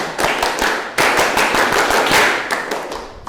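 Indonesian scout (Pramuka) group clapping in a classroom, a crowd of students striking a quick rhythmic pattern of claps, loud and close, repeated in bursts with no talk over it.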